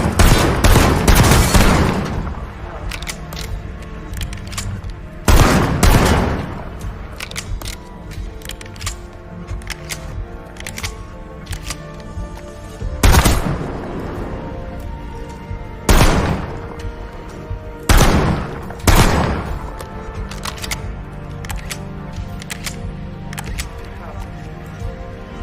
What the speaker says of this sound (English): Here is the riot gun.